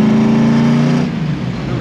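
A car engine revving hard on an open road, heard close from inside as a loud, strained drone that holds a high pitch and then drops slightly as the revs ease after about a second.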